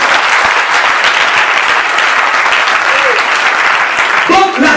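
A church congregation applauds and cheers in praise of the Lord, loud dense clapping from a large crowd sustained throughout, with voices calling out near the end.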